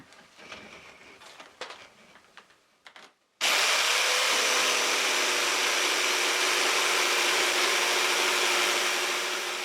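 A jigsaw cuts a crosscut through a thin sheet over wood, starting abruptly after a few seconds of quiet clattering and then buzzing loudly and continuously to the end.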